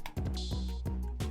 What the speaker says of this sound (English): So for the first open hat I used is this one,